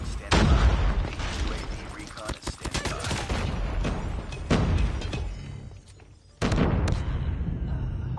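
In a Call of Duty Hardpoint match, rapid gunfire and explosive booms from a contact grenade come in dense, repeated bursts, with a brief lull before the shooting resumes.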